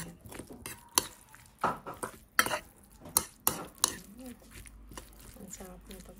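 Chicken sisig with chili being stirred and mixed in a pan, a utensil scraping and clinking against the metal in irregular bursts, close and fairly quiet.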